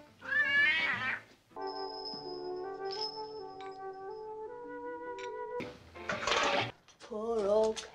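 A cat meows several times, close and clear, with long drawn-out calls and quiet gaps in between, and a brief rattle partway through.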